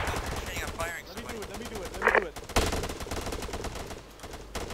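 Suppressing gunfire in a military shooter game, short bursts of rapid shots and sharp cracks mixed with voices talking over radio-like chatter.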